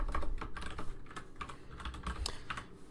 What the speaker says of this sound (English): I'm going to go ahead and type that out